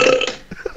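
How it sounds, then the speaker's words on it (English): A single loud human burp, deep and drawn out at first, then trailing off into a few softer gurgling bursts. "That was a good burp."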